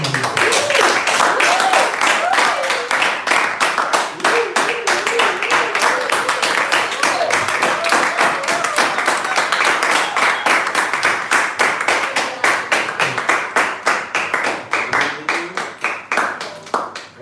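Audience in a leadership academy session claps steadily and loudly to welcome a speaker, the dense applause running the whole stretch and slowly thinning toward the end, with voices audible underneath.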